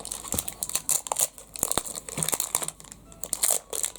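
Scissors cut open the plastic packaging of a Poopsie surprise unicorn doll, making a close, busy run of sharp crinkles and crunches that come in quick bursts, with no talking.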